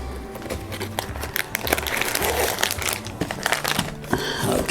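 A plastic bag crinkles and rustles continuously as it is handled inside a fire kit pouch, close and fairly loud, with no talking.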